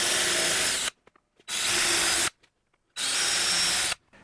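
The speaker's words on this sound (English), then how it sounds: "drill a pilot hole" Three sustained bursts of a power drill boring a pilot hole into steel, each about a second long, separated by short pauses, loud and close.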